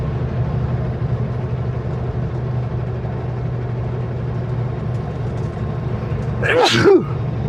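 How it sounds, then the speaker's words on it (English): A single short sneeze near the end, heard over a steady low engine rumble inside a Super B semi-truck cab in snowy conditions. "Told you I was gonna sneeze."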